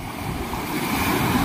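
Ocean waves wash onto the rocky shore at Sulok Beach in General Nakar, a steady rushing surf that swells slightly, mixed with wind buffeting the microphone and no voices.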